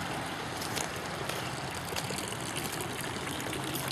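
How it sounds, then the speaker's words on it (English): A small bamboo fountain in a garden pours a steady trickle of water into a little bowl, a continuous close splashing and babbling with no break. "Just a little simple pouring bamboo down into a little bowl."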